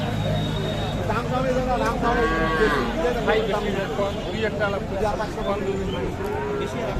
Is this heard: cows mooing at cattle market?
yes